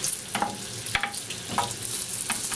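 Fresh garlic fries in oil in a pan over medium heat, giving a soft, steady sizzle broken by several short crackling bursts and stirring scrapes, quiet and close with no talk.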